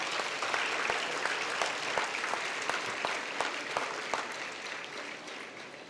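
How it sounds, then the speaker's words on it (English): Audience clapping at an awards ceremony, the Dynamic Indian of the Millennium Awards, steady applause with distinct individual claps standing out near the microphone, fading slightly toward the end. "Big applause for this awardees also."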